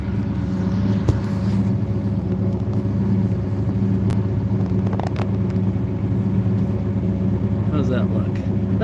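A Lamborghini Countach on the road, its engine rumbling steadily and close from inside the car, with a few brief knocks and rattles along the way.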